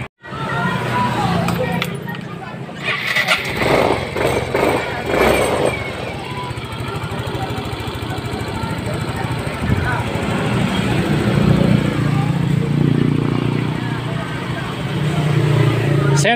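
A Yamaha Mio Soul i 125 scooter engine runs steadily after a fuel pump filter replacement, a continuous close idle drone with brief clatter early on.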